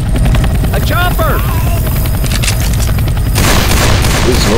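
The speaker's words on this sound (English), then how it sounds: "A chopper." A helicopter rotor in the zombie shooter Left 4 Dead 2 during a carnival level, loud and steady throughout, with bursts of gunfire and game effects layered over it.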